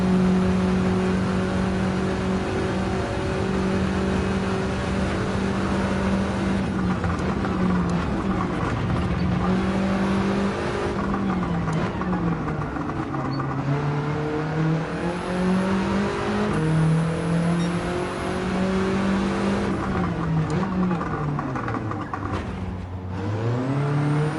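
Corvette race car engine in Gran Turismo 7 drones steadily and loudly throughout, pitch rising and falling through gear shifts and revs, with a brief dip near the end as the car brakes and accelerates again.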